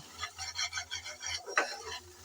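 Masala for a fish-oil curry is stirred in a pan with a quiet, rhythmic scraping pulse, about eight strokes under a faint sizzle, then a brief louder scrape near the end.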